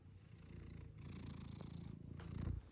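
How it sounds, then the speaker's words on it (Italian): A cat purrs softly and close by in a steady rhythmic rumble that swells slightly toward the end. No one speaks. "Povero gattino."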